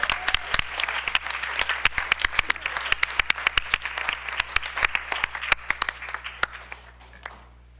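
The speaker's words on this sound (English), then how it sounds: "They deserve at least another round of applause for attending on Valentine's night" Applause from a board meeting audience fills the room, dense and steady with sharp individual claps standing out, sustained for several seconds before fading out at the end.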